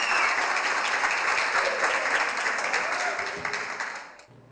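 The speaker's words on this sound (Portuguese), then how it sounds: "sabe o que essa galera aí merece? Uma salva de palmas bem reforçada." Audience at a school music festival in Camboriú applauds steadily with dense, sustained clapping and faint voices mixed in, then the applause fades and cuts off near the end.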